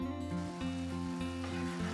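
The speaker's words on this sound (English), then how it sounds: "it's perfectly reheated and sizzling away" Shredded beef tongue sizzles steadily as it reheats in a hot pan, a soft continuous crackle and hiss heard close up with no talking.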